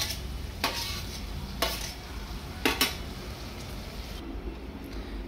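A curry simmers in a pan as tomatoes go in, giving a steady soft sizzle broken by a few brief clinks and scrapes of stirring, with no talking.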